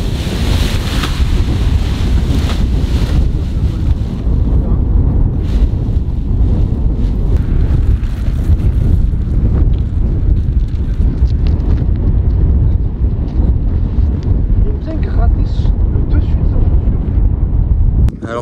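Steady, loud wind gusts buffet the microphone at a paragliding launch site in Morocco, a continuous roaring rush with surging peaks and no break throughout.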